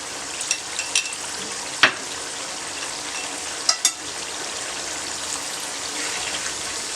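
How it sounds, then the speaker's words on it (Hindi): Pulao mixture of peas, carrots and potatoes frying in a pan after whisked yogurt and lemon juice go in, giving a steady close sizzle with a few sharp stirring scrapes and clicks. "चंद सेकंड के लिए आपने दोबारा से फ्राई करना है इनको।"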